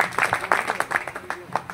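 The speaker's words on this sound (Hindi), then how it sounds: "तो एक बार जोरदार तालियों के साथ स्वागत कीजिए।" A crowd at a protest rally applauds to welcome a speaker, with a short burst of uneven clapping mixed with voices nearby.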